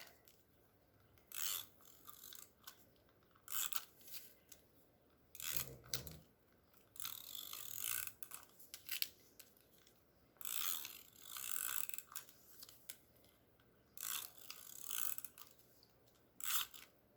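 A tape runner lays adhesive onto an embossed card panel at a papercraft table. It gives repeated close ratcheting, clicking bursts, each lasting about a second, with short quiet gaps between the passes.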